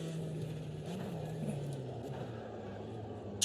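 A race car engine in the Automobilista 2 racing game holds a steady, fairly quiet droning note that sags slightly in pitch, with faint whooshes over a few seconds.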